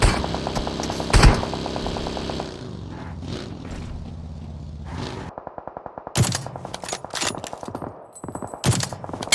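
Bursts of rapid automatic gunfire in the PUBG Mobile battle royale game, loud and close, with short volleys separated by brief pauses and sharper single shots near the end, with no talking.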